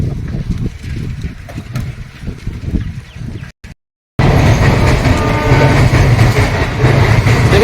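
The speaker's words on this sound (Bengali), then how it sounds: "না বন্ধুরা ট্রেন যাচ্ছে" A train rumbles past near Andul station, a low, loud rolling roar with rhythmic wheel clatter, broken by a brief dropout before the rumble returns even louder and closer.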